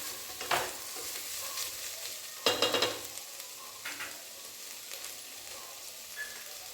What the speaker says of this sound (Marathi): आपण आता ह्याच्यामध्ये शिमला मिरची उभी कापलेली टाकूया, त्यालाही 1 मिनिटं जरा थोडंसं आपण हलवून घेऊया